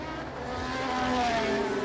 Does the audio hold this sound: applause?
no